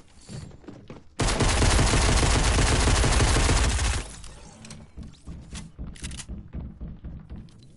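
Rapid SMG gunfire in Fortnite Battle Royale, a loud sustained burst of close shots lasting about three seconds, followed by scattered softer game sounds and clicks.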